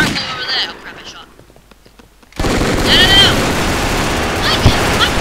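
Gunfire in the blocky online shooter Brick Force, a sudden loud burst that cuts in after a quiet stretch and continues as dense rattling shots, with players talking over it.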